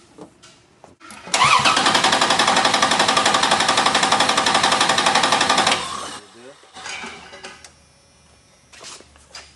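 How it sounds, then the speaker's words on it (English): A car engine cranking on its starter makes a loud, rapid, rhythmic whirring chug for about four seconds without catching, then cuts off, leaving faint clattering and handling noises nearby. "And now we crank the engine."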